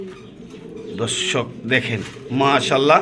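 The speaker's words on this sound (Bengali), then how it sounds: "এই একটা ফিমেল কবুতর" Soft cooing from a female pigeon imported from Italy, a few low throaty coos heard close by, mixed in with someone talking over them.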